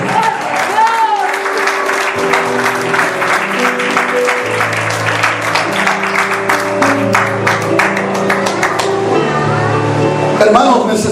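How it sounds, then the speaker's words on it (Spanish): A church congregation applauds during a revival service, a dense, sustained wash of clapping hands mixed with music that carries on at an even, loud level throughout. "Un aplauso."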